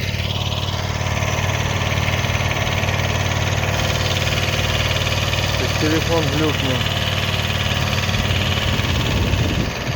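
A Kubota B5001 mini tractor engine drones steadily and loudly at a constant speed while working a field. Someone talks over the unbroken mechanical hum.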